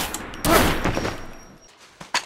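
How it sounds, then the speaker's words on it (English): A gunshot fired from the hip in the survival game SCUM, a loud close blast that trails off into a rough decay, followed by two sharper, quieter cracks near the end. "He didn't even raise the gun. He just shot me from the hip."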